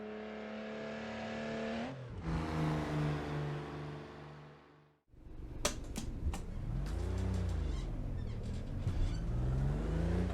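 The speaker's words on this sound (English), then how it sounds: "here I am in a 1984 Porsche 911 Carrera." A 1984 Porsche 911 Carrera with a 3.2-liter flat-six revs and accelerates through the gears, its engine droning loud and close, dropping briefly between shifts before climbing again.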